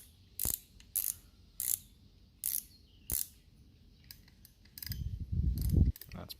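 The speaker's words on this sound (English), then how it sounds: "tighten our drag down to hold our spool on" Drag knob on a Quantum Triax 30 spinning reel being turned tight, giving five evenly spaced loud ratcheting clicks followed by softer quick clicks and a low scraping rumble.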